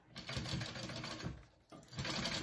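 Sewing machine basting around a wallet flap, a close, steady mechanical whir and rattle that pauses briefly and then starts up again, quiet overall.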